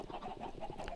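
Dense, overlapping clucking from a crowd of about a hundred spawned Minecraft chickens on an SMP server, video-game sound effects, carrying on steadily and fairly loud with no talk.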